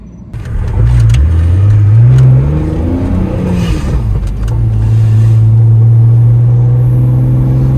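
Car engine pulling in fourth gear around 2000 RPM, loud and close, revving up through a rising hum, easing off briefly, then settling into a steady strong drone, with no talk.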